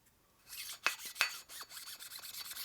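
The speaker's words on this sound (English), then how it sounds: "It's a really fine hone, so it doesn't take much metal off." A fine hone scrapes inside the rough cylinder of a 1946 Harley knucklehead stroker engine, making close, rhythmic rasping strokes with two sharper scrapes early on.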